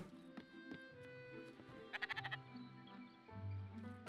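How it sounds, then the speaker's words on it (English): Sheep bleating in the video game Spiritfarer, a short wavering bleat with a few quick pulses, heard over a soft game music bed with no talking. "Hello, sheep."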